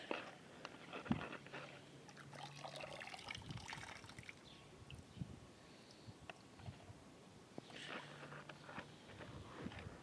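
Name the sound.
water being poured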